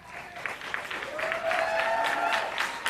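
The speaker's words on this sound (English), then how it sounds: "Please hold your applause." Scattered clapping from the audience at a school board meeting rises to a moderate, steady round; a voice speaks faintly over it.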